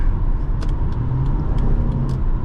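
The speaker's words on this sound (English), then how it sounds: "the sound is so good. Sounds like a sports car" A 2010 Acura MDX 3.7L engine revving and pulling steadily, a loud sustained low growl with a rising tone, heard close without any voices.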